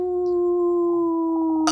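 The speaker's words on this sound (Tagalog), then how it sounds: "Alulong yun ng isang taong lobo." A werewolf's howl in a horror story, a long sustained tonal wail held steadily and loud at close range, ending in a brief noisy burst.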